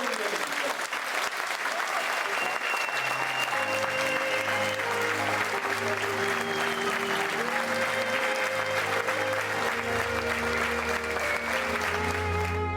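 A crowd applauds as the coffin of artist Özkan Uğur is sent off toward Taksim Mosque, sustained clapping over a low background of music or voices throughout.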